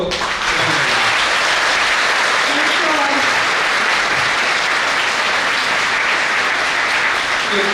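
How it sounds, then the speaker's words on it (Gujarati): An audience of women students at an International Women's Day lecture bursts into loud, sustained applause, dense clapping that starts abruptly and continues evenly for several seconds, close and filling the room. "જોરદાર તાળીઓ."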